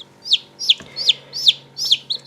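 Chickens of the black Ayam Cemani breed give a repeated series of sharp, rising clucks, about five evenly spaced calls close by and fairly loud, with no talking.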